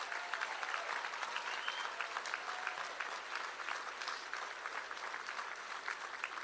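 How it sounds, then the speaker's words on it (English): Steady crowd applause from an audience at a midterm election night gathering in Iowa, dense and continuous, moderately distant, with faint cheering voices mixed in. "Can we give them a round of applause too?"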